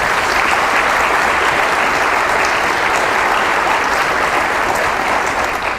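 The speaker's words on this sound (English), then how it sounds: "Can we please give them another round of applause?" Loud, sustained audience applause at a county budget address, a dense wash of many hands clapping that holds steady for several seconds before easing slightly at the end.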